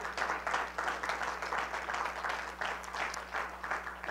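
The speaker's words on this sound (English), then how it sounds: "Let's give God a hand clap today" Church congregation clapping hands together in a steady, rhythmic beat, a warm cluster of many palms close by with a low hum beneath.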